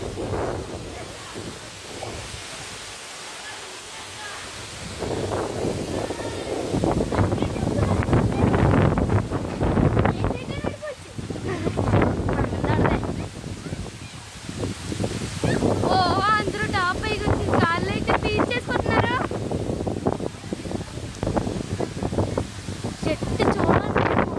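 Strong wind blows through trees in a village, a continuous roaring rush with microphone buffeting and rustling leaves, with a voice speaking faintly now and then.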